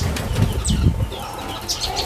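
Spotted doves (tekukur) flapping their wings inside a cage at a bird seller's, giving two or three quick close fluttering bursts with faint bird calls in the background.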